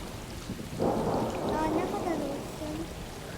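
Steady rain hiss with a low rumble of thunder rolling in and fading, continuous and moderately loud, in the video game Stray.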